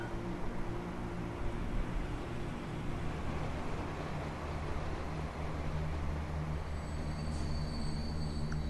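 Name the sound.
two trains arriving at a station in Transport Fever video game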